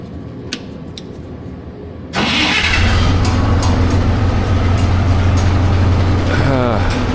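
A G950 motor grader's engine cranks and catches about two seconds in, then runs at a loud, steady idle close by, with some background noise before the start.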